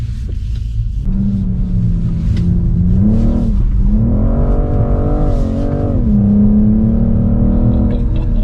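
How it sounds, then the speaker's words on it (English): A BMW M2 CS laps a damp track, its engine droning loud and close with rising and falling revs as it accelerates through gears and corners, a continuous rumble with no talk. "I'm just going to pull over and wait for this M2 CS to do a few laps."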